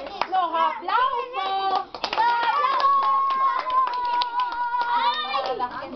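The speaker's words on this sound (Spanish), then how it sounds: "¡Los aplausos!" Several hands clap in quick, sharp bursts, close by, while a child and others keep talking loudly over and between the claps.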